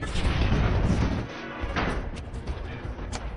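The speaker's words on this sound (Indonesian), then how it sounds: "Dani berhasil menghindari tembakan yang dilesatkan oleh Spike" Loud, dense booming gunfire from a film shootout rolls continuously, heavy and close, with a brief dip before the blasts resume.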